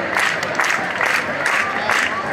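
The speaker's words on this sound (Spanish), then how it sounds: "la gente acompaña con palmas" A street audience at an outdoor summer show in a Cádiz plaza claps along in a steady rhythm, about two beats per second, under a continuous crowd murmur.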